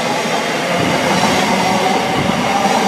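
Loud, close rumble and rolling rattle of a 12-car train pulling into Harlington station, steady and continuous with faint metallic squeal.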